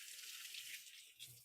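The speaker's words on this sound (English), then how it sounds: "Give my hands a quick rinse." Water from a running kitchen tap splashes steadily over hands being rinsed, a continuous close hiss lasting a moment, mid-cooking while baking biscuits and banana bread.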